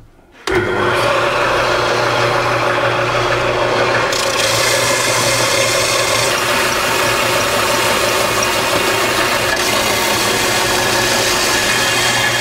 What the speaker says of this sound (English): So I'm gonna go ahead and grind this down a little bit just to flatten it out some.